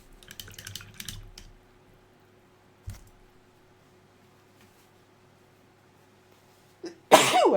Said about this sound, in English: Ooh, I had to sneeze.